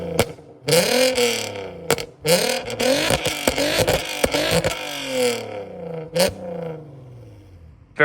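Exhaust of a 2008 Volkswagen Golf R32 with the 3.2 VR6 and a resonator delete, revved in several loud, close blips separated by short pauses, with rasping bursts that rise and settle back toward idle.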